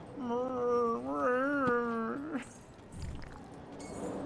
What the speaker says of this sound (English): I love that the Howling Chasm actually has howling.